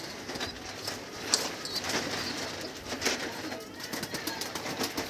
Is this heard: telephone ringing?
no